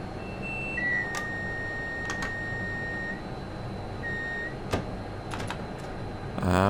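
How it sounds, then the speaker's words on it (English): Cab alarms in a Class 390 electric train in Train Sim World on the West Coast Main Line sound as steady electronic tones, with one long and one shorter beep, plus several sharp clicks, in a quiet cab. "Just let all these alarms clear."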